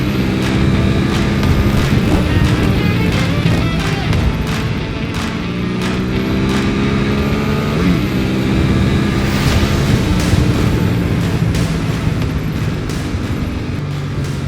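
Ducati V4R motorcycle engine under way, a loud continuous high-revving roar with rising and falling pitch sweeps as it shifts through the gears and speed changes, close up and steady with no talk.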